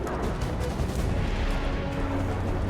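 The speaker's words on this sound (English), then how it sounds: "Watch out! Flashbangs!" Flashbang grenades going off in the Mass Effect 2 video game, a dense run of loud booming bursts and crackling blasts that overlap one another for a few seconds without pause.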